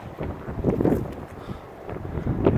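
Gusty wind buffets the microphone in uneven bursts, rising and falling outdoors with no one speaking.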